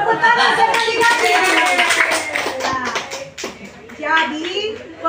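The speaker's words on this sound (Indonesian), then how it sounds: "Tepuk tangan sekali lagi." A classroom of students claps together in a sustained burst of applause, with children's voices and a teacher speaking over and after the clapping.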